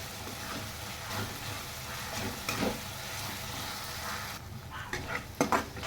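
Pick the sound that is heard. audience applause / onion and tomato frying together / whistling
onion and tomato frying together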